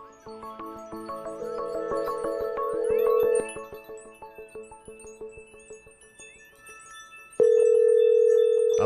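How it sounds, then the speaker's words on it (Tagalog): Telephone dial tone and call-progress tones heard alone while a call is placed: a steady tone with clicking pulses, a pause, then a loud sustained tone near the end. "Ngayon po, susubukan natin tawagan si Miss Sas Rogando."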